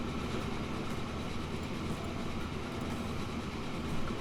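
A train rolls steadily along the track in the Transport Fever railway game, a continuous, even rumble of wheels and carriage noise holding at moderate, distant loudness throughout with no talk.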